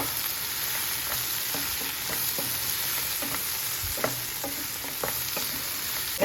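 Capsicum fry with chilli powder and pepper powder stirred in a pan, a steady sizzle with repeated soft scraping strokes of a spoon throughout, close and moderately loud with no voices.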